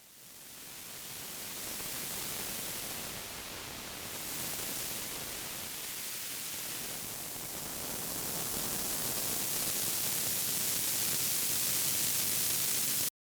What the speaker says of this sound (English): So now we have three different treatments of the same noise loop